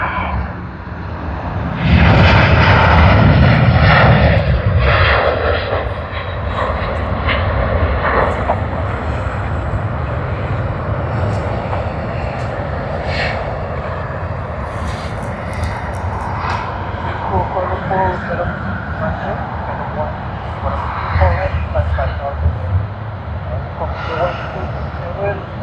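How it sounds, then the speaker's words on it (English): A Delta airliner, flight DL40, passes at an airport with a loud, broad jet roar that swells early and then holds as a steady rumble, with occasional voices over it. "let's capture DL40. It's flight to Los Angeles,"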